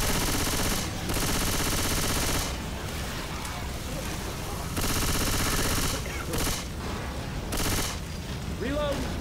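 Dense, loud Left 4 Dead 2 gunfire in rapid bursts with brief gaps, overlapping a chaotic game mix and some talk.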